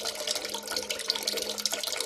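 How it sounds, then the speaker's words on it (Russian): Low-pressure water trickling from a tap in thin little streams, a soft steady hiss and splatter, fairly quiet and alone. "Ну, вода пошла."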